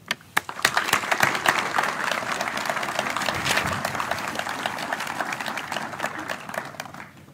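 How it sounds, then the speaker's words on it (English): Guests at an 82nd Airborne Division memorial ceremony give a round of applause, opening with a few sharp separate claps that swell into steady, moderately distant clapping and then thin out. "Let us also give a round of applause to all of the Gold Star families"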